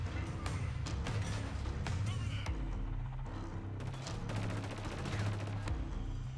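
Gunfire in the video game Killzone: Shadow Fall, a run of rapid automatic shots and single cracks over a low, busy game backdrop, fairly faint.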